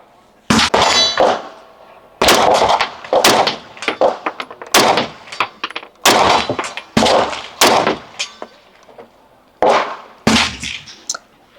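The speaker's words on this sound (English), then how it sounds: "we're going to take about a couple of shots and see how it is without a suppressor on it" An unsuppressed rifle fires about eight loud, sharp reports, each with a ringing tail, spaced one to two seconds apart, with no talking in between.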